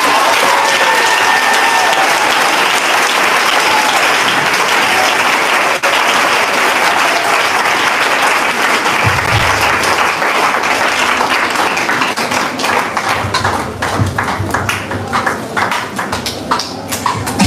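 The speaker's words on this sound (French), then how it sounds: "Si tu es là vraiment, acclame le Seigneur Jésus-Christ." A church congregation breaks into sustained, dense applause that fills the space, steady and loud throughout with scattered cheers and a few voices rising near the end.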